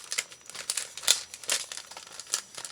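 Plastic bags holding old papers crinkle and rustle in short, irregular bursts close by, light crackling handling with no voices.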